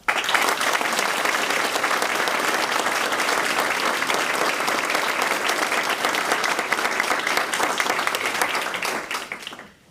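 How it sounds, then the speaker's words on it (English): An audience at a National Academy of Sciences event gives a warm round of applause for the academy's president. The clapping is dense, loud and even for nearly ten seconds, then fades out abruptly at the end. "And a warm round of applause"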